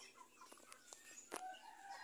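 Faint chicken clucks and short fowl calls scattered through a quiet yard, with one louder squawk near the middle.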